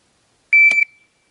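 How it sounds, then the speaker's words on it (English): A shot timer gives a single sharp electronic beep during handgun practice, loud and brief, then silence. "The moment you begin to hear that sound on B, you need to be reacting instead of waiting for it to go beep"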